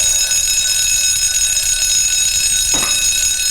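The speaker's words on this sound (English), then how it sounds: "when Tickety Tock heard that, he rang louder than ever" A loud alarm clock rings continuously and shrilly throughout, close and steady with a sustained high-pitched tone. A brief lower sweep sounds near the end.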